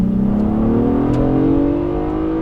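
2018 Acura TLX V6 SH-AWD A-Spec accelerating, its intake and exhaust rising in a loud, steadily climbing engine drone heard from inside the car, with no talk over it.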